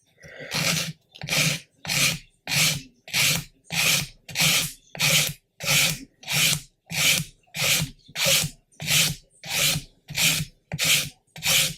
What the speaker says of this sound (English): Going to use a 220 grit because I think that will take it back quickly enough without putting too much damage in